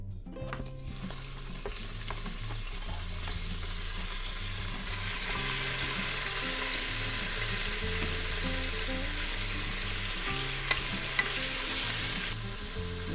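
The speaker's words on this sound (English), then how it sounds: "Now we will stir this around and let it brown" Cubed beef browns in a hot stew pot with a loud, constant crackling sizzle and occasional stirring scrapes, close up and with no voices.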